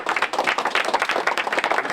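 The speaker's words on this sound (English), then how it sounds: "a round of applause for you" Applause at a school event presenting a veterans' wall of fame: a dense, steady burst of many hands clapping close by, sustained at an even loudness throughout.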